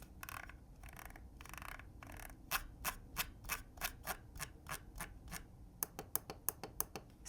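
Scroll wheel of a cheap Logitech M170 wireless mouse clicking through a run of quick, faint, crisp ticks, some bursts scraping, then an even clicky rhythm that speeds up near the end, close and with no voices.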